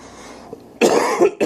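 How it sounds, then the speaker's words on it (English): A sick man coughs close to the mic, a short burst of harsh hacks followed by another brief cough, loud against a quiet room. "You'll have to excuse my cough."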